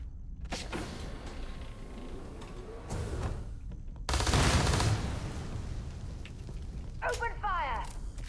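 Gunfire crackles in Starfield as a firefight breaks out, with short bursts and a louder sustained volley, plus mechanical clanks in between.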